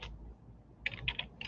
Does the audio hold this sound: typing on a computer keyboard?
yes